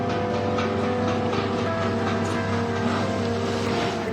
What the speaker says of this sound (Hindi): शुगर मिल में मशीनों की आवाज किसानों के कानों को सुकून दे रही है।